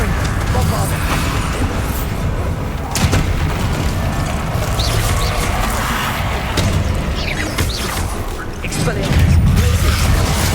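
A Bombarda blast spell in Hogwarts Legacy booms amid dense, loud combat noise, with heavy rumbling bursts near the start and again toward the end.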